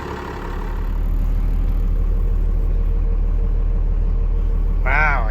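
A truck with a Cummins engine rumbles steadily, a low continuous drone close by that holds even and loud throughout, with a brief higher whine or squeal near the end.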